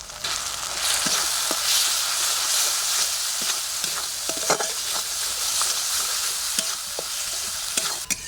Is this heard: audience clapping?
no